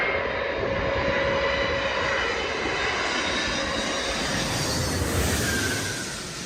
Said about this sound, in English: watching a plane land in the middle of heavy snowfall